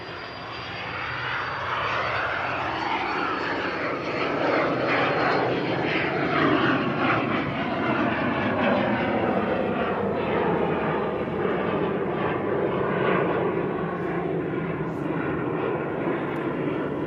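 Business jet engines spool up at Manchester Airport, a loud, steady roar with a rising whine that holds for the whole span. It sounds fairly close and plays with no talking over it.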